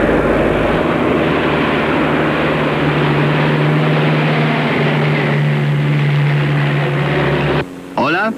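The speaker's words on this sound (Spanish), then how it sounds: "Voy a aterrizar para hablar con Aldo Mondale." A light propeller airplane drones steadily in flight before landing, a loud constant engine hum with a strong low tone that cuts off abruptly near the end.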